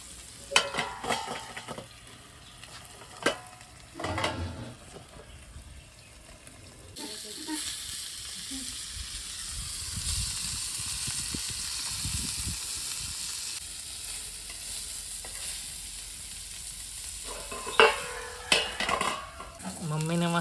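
Fish frying in a pan on a wood-fired village stove (chulha), with a steady hiss and sizzle that swells midway and holds, alongside some stirring clatter and brief voices near the start and end.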